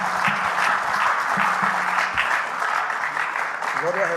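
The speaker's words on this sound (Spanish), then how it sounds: "¿Cuánto le damos un aplauso al Señor?" Church congregation applauding during a Spanish-language sermon, loud sustained clapping from many people with a voice heard briefly through it near the end.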